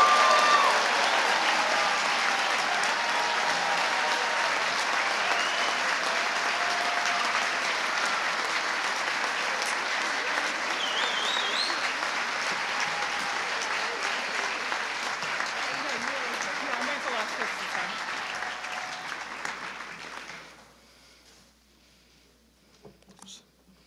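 Audience at the University of Kansas School of Engineering Fall 2021 recognition ceremony applauds Bachelor of Science graduates, sustained dense clapping filling a hall, tapering off near the end into quiet room tone.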